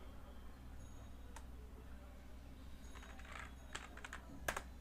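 A few sharp computer keyboard clicks, including a press of the enter key, sound faintly and close against a quiet room hum, with a small cluster of taps near the end.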